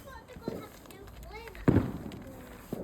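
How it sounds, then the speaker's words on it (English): Distant fireworks crackle and pop during a Bonfire Night garden display, a sharp burst standing out midway, while children and adults chatter nearby. "You can hear all of the fireworks in the background."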